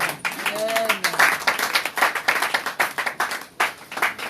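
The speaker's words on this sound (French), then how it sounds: "On acclame le Seigneur." A church congregation claps and applauds during a Sunday worship service, a dense, steady patter of many hands running throughout, with voices calling out over the clapping.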